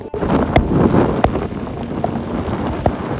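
Heavy rain pours steadily and close by with wind, occasional sharp drips or taps striking a nearby surface and some wind rumble underneath.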